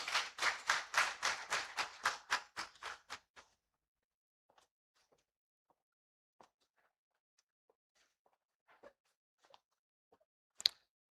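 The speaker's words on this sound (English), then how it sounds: "Let's welcome her with a round of applause." An audience at an academic honorary conference breaks into brisk, rhythmic applause for about three seconds, then it dies away into scattered faint clicks and taps in a quiet room.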